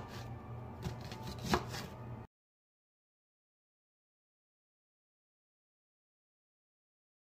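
Yellow onion being chopped on a cutting board for a salad, a short burst of quick knife strikes for about two seconds, close and fairly quiet, followed by silence.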